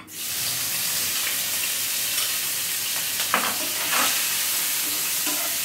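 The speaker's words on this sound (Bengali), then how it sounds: "এবার চিংড়ি মাছটা হালকা করে ভেজে নেব।" Loud, steady sizzling of shrimp frying in hot mustard oil, with a few stirring scrapes partway through; nobody speaks.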